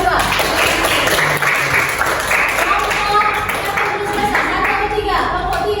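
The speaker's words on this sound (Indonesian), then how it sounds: "Oke, tepuk tangan untuk kelompok 2." A classroom of high school students claps for a student group after a lesson, a brief, uneven patter of hands mixed with chatter and children's voices.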